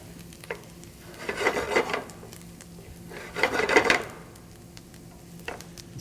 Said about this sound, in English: I'm kind of stir frying the rice right now